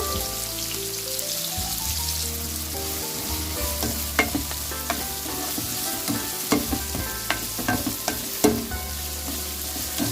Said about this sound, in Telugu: ఆయిల్ కూడా వేడెక్కిన తర్వాత ఉల్లిపాయలు అలాగే పచ్చిమిరపకాయలు వేసేస్తున్నాను నూనెలో.